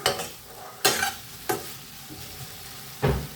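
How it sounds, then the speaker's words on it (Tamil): Food fries in a pan with a soft, continuous sizzle, broken by four sharp scraping stirs of a spatula at uneven intervals. "கொஞ்ச நேரம் அப்படியே பொரிய விடுவோம்."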